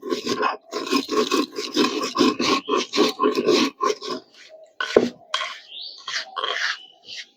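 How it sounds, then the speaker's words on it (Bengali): Ginger crushed to a coarse powder on a stone grinding slab (shilpata), a dense run of gritty grinding and scraping strokes close by, with a sharp knock near the middle and lighter scraping afterward. "শিলপাটায় আদা ভাঙা করে গুঁড়ো করে নেব"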